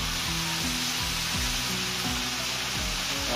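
Guangxi cured fish and chili peppers stir-fried in a wok, giving a loud, steady sizzle that runs unbroken throughout, with a faint rhythmic low clatter underneath.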